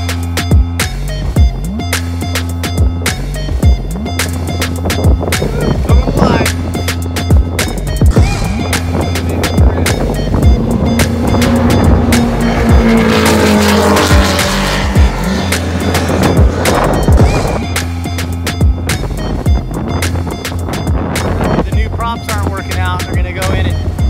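The Lucas Oil offshore race boat's engine roars during testing at the OPA National Championships, a loud, sustained rumble that swells toward the middle and then eases, with sharp crackles throughout and no talking.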